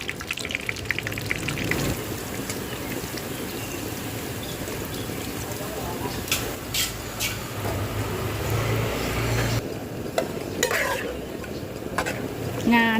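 Dried chilies frying in hot oil, bubbling and crackling loudly up close while a utensil stirs and scrapes through them in repeated strokes.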